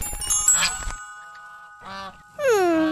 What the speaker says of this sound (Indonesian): Angsa Atuk terlepaslah tu.